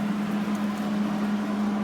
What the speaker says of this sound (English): that noise is the Hobart 140 handler getting ready